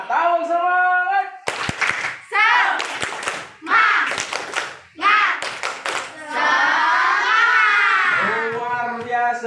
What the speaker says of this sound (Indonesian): Oke, tepuk tangan bagi kelompok yang luar biasa.